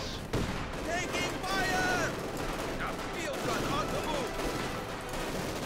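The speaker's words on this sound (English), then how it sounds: "Eliminate all those heavy machine guns. Just take out, let's just throw grenades everywhere." Heavy machine gun fire and grenade blasts in the Company of Heroes 2 video game, with bursts of rattling gunfire and thuds layered over a busy battle din, and a voice talking over the action.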